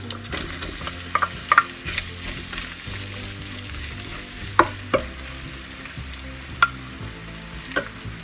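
Onions sautéing with ginger in a hot pan for Filipino ginisang palaka, a continuous sizzle broken by several sharp scraping clicks of a spoon stirring, close and alone over faint background music.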